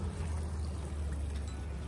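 Water pouring over cherry tomatoes being washed on a riverbed farm, a short steady splashing rush close to the microphone, no talk.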